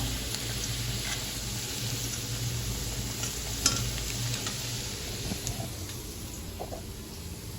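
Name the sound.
potatoes frying in pan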